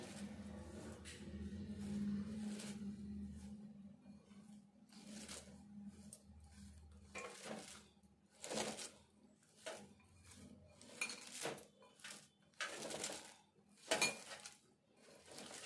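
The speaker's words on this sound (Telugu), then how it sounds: "ఇట్లా అంతా గట్టిగా కలుపుకోవాలి." A spoon scrapes and clacks against a bowl while cabbage batter with green chillies, chilli powder and turmeric is stirred and mixed by hand, irregular wet knocks and scrapes close by, growing busier toward the end.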